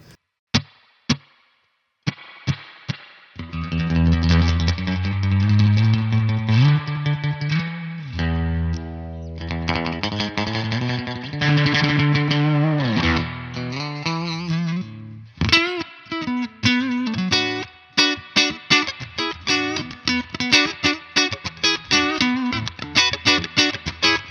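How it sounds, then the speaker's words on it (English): A clean Fender-style electric guitar tone from a TC Electronic Combo Deluxe 65' amp plays sustained chords and picked notes, with an emulated spring reverb wash trailing each phrase, close and fairly loud. "they've done a fantastic job of emulating that spring reverb too. That's really lovely reverb."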